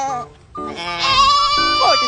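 Pet goats suffering from diarrhea bleat loudly and close on a farm, several wavering, quavering calls overlapping one another in quick succession with no other sounds.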